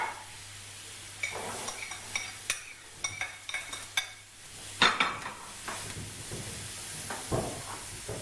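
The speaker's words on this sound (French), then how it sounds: "je vais commencer à faire revenir les petits lardons" Smoked bacon lardons sauté with butter and onions in a pan, heard as a soft background sizzle broken by repeated utensil scrapes and clinks against the pan, with one louder clatter midway. No one speaks.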